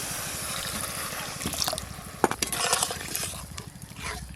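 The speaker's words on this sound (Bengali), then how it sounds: "এবার পরিমাণ মতো জল দিয়ে দেবো" Water is poured into a pan of curry cooked with spiced oil, making a splashing, gurgling pour with a low bubbling pulse and a sharp splash midway. It is close and moderately loud.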